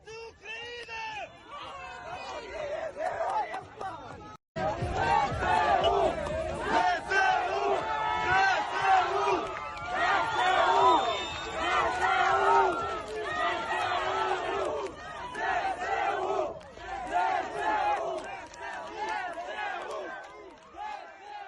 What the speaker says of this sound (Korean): 여기서 헤르손 탈환의 승리를 거두고 입성한 우크라이나 전사들을 환영하는 시민들의 환호를 잠시 보겠습니다.